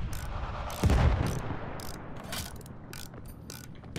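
Mechanical repair sounds in Battlefield 1: ratcheting, clanking tool clicks with a heavier thud near the start, set against distant battlefield noise, no talking.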